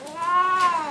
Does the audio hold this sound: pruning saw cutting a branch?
no